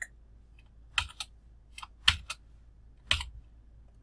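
Sparse, close keystrokes on a computer keyboard while C code is typed on Linux, a few separate clicks and short bursts spaced about a second apart over a quiet background.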